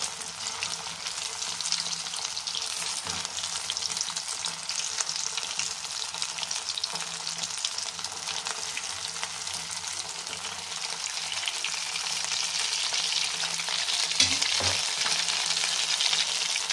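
Sabudana vada frying in hot oil until golden brown, a steady close sizzle with soft bubbling and occasional stirring clinks, continuous throughout without speech.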